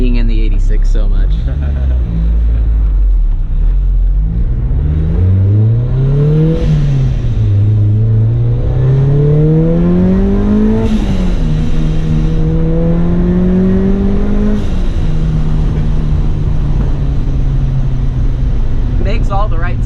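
A supercharged Mazda Miata engine revs up through the gears while driving, its pitch rising and falling with each loud acceleration and shift, heard close from inside the car.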